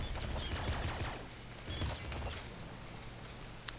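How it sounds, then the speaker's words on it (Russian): Rapid automatic shotgun blasts from the video game Nuclear Throne, a dense crackling barrage of shots in the first half that thins toward the end, with one sharp click near the close. "Этот уровень я хочу просто прочистить автошотганом."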